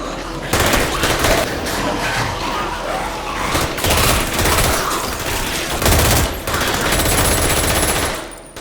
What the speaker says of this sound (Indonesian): Guinam yang mendengar suara tembakan,